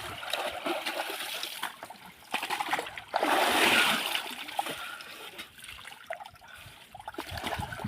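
Water splashes and churns in an outdoor farm tank in a village field, with surging bursts and trickling between them, close and fairly loud, mixed with faint background voices.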